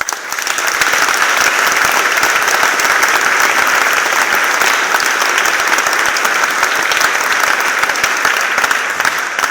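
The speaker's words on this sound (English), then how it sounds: "So a round of applause," A room full of people applauds school staff, loud, continuous and dense clapping that stays strong and even from start to finish with no talk over it.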